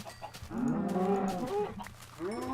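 Cows in Minecraft let out a drawn-out, wavering moo, then a second shorter low call, close by over quiet game ambience.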